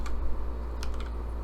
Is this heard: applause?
no